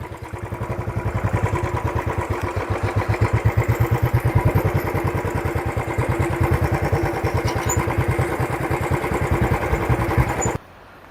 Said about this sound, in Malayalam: താഴോട്ട് ബൈക്ക് പോകുന്ന